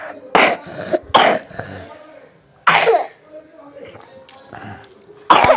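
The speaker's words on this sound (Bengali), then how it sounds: "কোল্ড ড্রিঙ্কস খেয়ে আজ কাশি হচ্ছে," A man coughs in several sharp, throaty bursts spread across a few seconds after drinking a cold drink during a KFC meal, with quieter throat noises between the fits.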